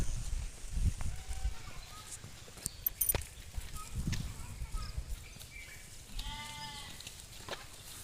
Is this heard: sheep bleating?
yes